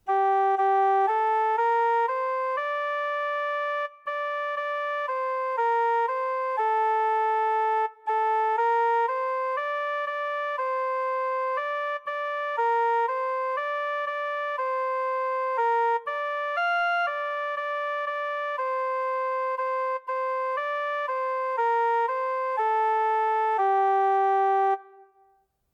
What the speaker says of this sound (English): the tune is Auf meinen lieben Gott,